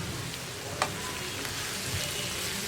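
Sliced potato and onion frying in a pan, a steady broadband sizzle with a brief sharper stir or scrape near the start, close and alone with no talk.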